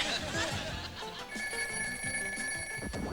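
A telephone rings in a cartoon kitchen scene, its steady electronic trill sounding from midway through over busy music and voices talking.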